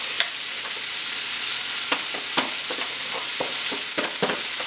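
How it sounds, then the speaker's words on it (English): Mushrooms and onions for chicken marsala hiss loudly in a hot pan, a dense continuous sizzle broken by stirring scrapes and clicks. "Put some of these remaining mushrooms and onions."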